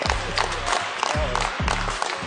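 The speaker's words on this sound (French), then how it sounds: "les applaudissements de l'extrême droite" Parliamentary chamber applause from the far-right benches, a crowd clapping steadily with some cheering and shouting mixed in, moderately loud and sustained across the whole stretch.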